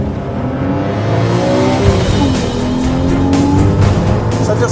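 Porsche Boxster S launching hard on a drag strip, a loud sustained engine roar rising in pitch through the run with tire noise, steady and close throughout.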